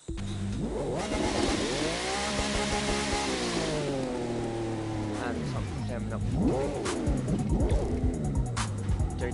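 Lamborghini Huracán engine in a driving game, revving loudly with rising and falling pitch sweeps and sustained high-rpm drone, with people talking over it.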